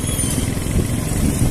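A motorcycle rolling along in neutral, a close, steady low engine rumble with a continuous droning texture and no talk.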